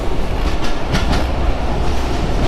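A passenger train rumbles along the tracks at high speed, heard close by from inside, heavy low rattling with rhythmic clacking of wheels over rail joints, loud and continuous.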